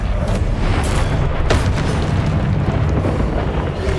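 Continuous loud booming blasts of the Confringo fire spell in the Hogwarts Legacy video game, dense rumbling explosions with sharp bursts layered over a steady roar of combat effects.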